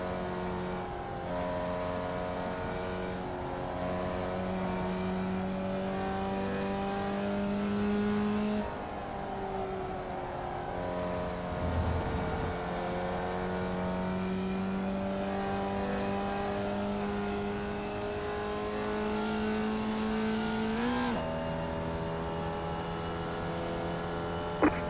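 Formula race car engines in the iRacing VR sim drone steadily with shifting pitch, rising and falling through gear changes and revs over about twenty-five seconds, close and continuous, with no voices.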